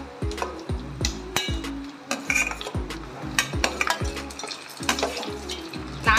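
Tomatoes and green chillies sizzle and fry in a pan while being sautéed for a village-style mutton curry, with repeated rhythmic stirring and clanks of a utensil against the pot throughout.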